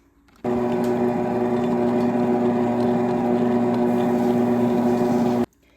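A mixer churns almond flour bread batter with a steady, loud motor whir that starts abruptly, holds an even pitch for about five seconds, then cuts off.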